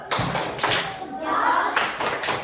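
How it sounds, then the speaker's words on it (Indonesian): Classroom children perform a clapping routine, a few sharp hand claps and taps near the start and again at the end, with a voice in between. "Kasih tepuk jempol."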